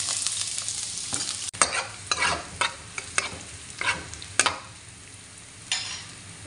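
Onions sautéing in hot oil in a pan, a close steady sizzle broken by repeated scraping stirs and a few sharper knocks, no voices.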